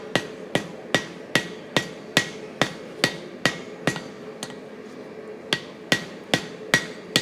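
A hammer strikes hot steel on an anvil while a spear socket is forged, about sixteen loud, evenly spaced ringing blows with one brief pause midway.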